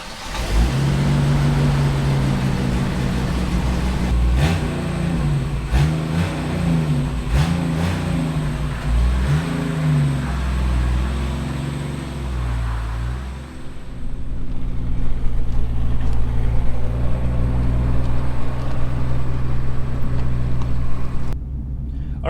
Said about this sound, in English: we're kind of doing one of our final shakedown drives for our customer's 84 Landcruiser 60 Series